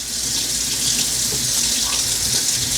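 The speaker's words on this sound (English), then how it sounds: "Holy shit, we have hot water." Hot water runs steadily from an RV faucet, a loud continuous splashing stream close by that lasts throughout with no talking.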